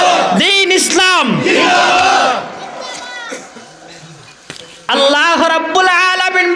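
A large crowd at a Bengali Islamic sermon gathering roars a chant back in loud unison after a shouted call, the mass of voices swelling, dipping briefly, then surging again.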